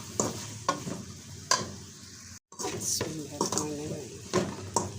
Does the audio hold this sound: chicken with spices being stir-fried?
yes